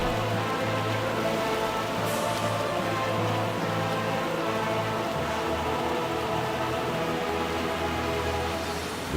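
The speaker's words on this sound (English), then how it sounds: "Okay, so it's raining again." Steady rain falls in the World of Warcraft video game, a continuous loud wash of drops spread evenly across the whole stretch with a low hum beneath, no voices present.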